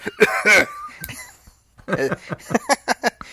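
Someone imitating a whooping cough coughs a few times in quick, harsh bursts, then a series of short, rhythmic breathy hacks follows, close to the listener.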